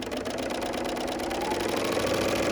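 A BERNINA L 850 serger runs steadily stitching a rolled hem, a fast, even mechanical whir with a rapid rhythmic chatter, close and continuous without any talk.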